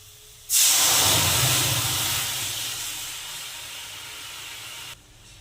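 Red lentils for masoor dal hit hot, browned fried onions in oil and set off a sudden loud hiss of sizzling steam. It fades slowly over about four seconds and then cuts off.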